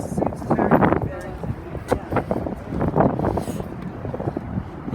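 Wind gusts buffet the microphone outdoors on a Sydney Harbour Bridge climb, loud and uneven rumbling bursts throughout, mixed with someone talking.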